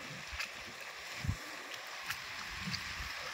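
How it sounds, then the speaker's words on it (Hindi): Waves lapping at the shore of the Chandraprabha dam reservoir near Rajdari, a broad watery wash with a few soft low splashes, steady and moderately close, no talk. "देखिए लहर मार रहा है पूरा समुंदर की तरह।"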